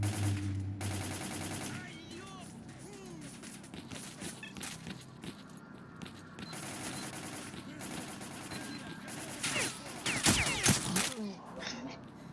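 Bursts of rapid automatic machine-gun fire crackle in quick runs among quieter sounds of the video game S.T.A.L.K.E.R. Clear Sky, with the heaviest volley near the end and scattered voices.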